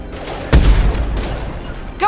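A single loud, close weapon shot in the Mass Effect 2 video game, a sharp boom with a rumbling tail that fades over about a second, standing alone.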